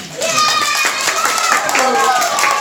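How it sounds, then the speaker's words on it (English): A class of lively six-year-olds claps along, quick uneven hand claps mixed with children's excited voices and squeals throughout, close and loud. "you can give me a round of applause there"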